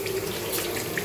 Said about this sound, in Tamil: நான் வந்து கை கழுவிட்டு